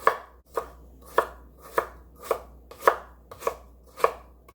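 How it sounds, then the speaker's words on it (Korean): A knife julienning carrot on a cutting board, with about eight evenly spaced, crisp chops in a steady rhythm, close and clear with no talking. "당근 조금 채 썰어줄게요"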